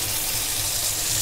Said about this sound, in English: I'm going to run the water for a few seconds just to get really cold water